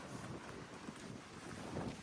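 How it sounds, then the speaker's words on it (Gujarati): Wind blows steadily outdoors in rainy weather, a broad rushing noise with gusty buffeting on the microphone that swells near the end. "તમને કદાચ અવાજ આવતો જ હશે પવનનો"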